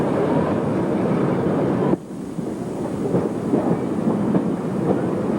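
A train runs on the single line between Whitby and Scarborough, near Falsgrave Tunnel, with a steady rumbling roar and a sudden drop in level partway through, then continuing with faint rhythmic clatter.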